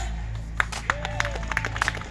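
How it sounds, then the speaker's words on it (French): Audience at a Cameroonian diaspora rally in Paris applauding, a brief dense patter of claps in a crowd, fairly loud with a steady hum beneath. "Vous pouvez applaudir s'il vous plaît."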